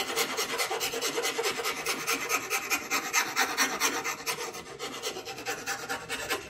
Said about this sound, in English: Now you notice I'm filing at an angle,